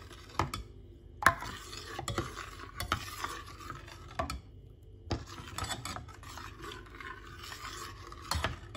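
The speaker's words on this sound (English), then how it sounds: "you have to have a big spoon like that to keep on stirring it" A big spoon stirs Gujarati kadhi, a yogurt soup, in a cooking pot. Soft, repeated scraping strokes and occasional knocks against the pot sound close and quiet, with a faint background hiss.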